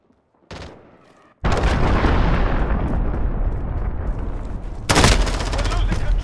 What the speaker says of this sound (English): Missile incoming. Take cover.